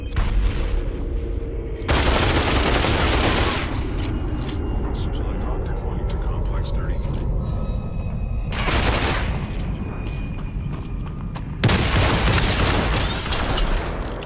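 Shotgun blasts in the VR battle royale Population One, loud bursts repeating at irregular intervals with game ambience between them and voices talking over the action.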